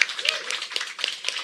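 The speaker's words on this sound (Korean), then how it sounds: "예, 박수 부탁드립니다." Scattered audience clapping at a Korean mayor's press conference, a short burst of claps over a room murmur.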